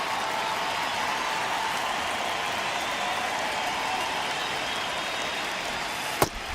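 Steady, dense stadium crowd noise from an MLB The Show baseball game builds across the clip, a broad wash of cheering and murmur with one sharp clap near the end.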